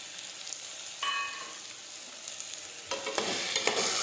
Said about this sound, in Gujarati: ફરી આ રીતે આપણે સાતળી દઈશું